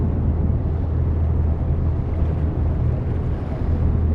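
An AI-controlled ship passes in the Seafarer ship simulator game, a steady low engine rumble with wash and wind-like noise holding evenly throughout, no voices.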